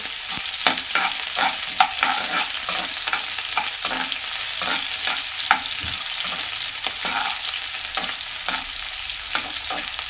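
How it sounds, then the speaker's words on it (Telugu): Sliced onions fry over a flame until reddish, a loud steady sizzle with a regular rhythm of spatula scrapes and taps against the pan, heard close up with no voices. "ఇలా ఆనియన్స్ రెడ్ కలర్ వచ్చే వరకు కొద్దిగా ఫ్రై చేసుకుంటూ ఉండాలి"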